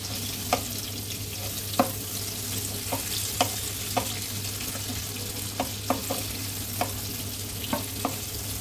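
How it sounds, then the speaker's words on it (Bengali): Prawns fry in a pan for a tender coconut prawn dish. A steady sizzle runs throughout, broken by about a dozen sharp scrapes and clicks as they are stirred, with no talking. "চিংড়ি মাছগুলো একটু হালকা নেড়ে ছেড়ে ভেজে নেব কালার আসা অবধি।"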